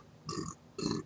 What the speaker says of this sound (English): pepper burp like crazy